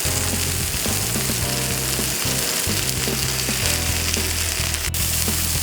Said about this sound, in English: As the fish does cook, you'll see it starts to shrink just a little bit